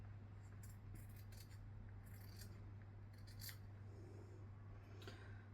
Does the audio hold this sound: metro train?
no